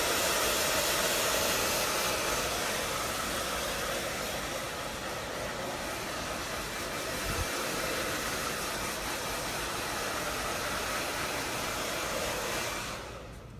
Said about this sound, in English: Dryer's off.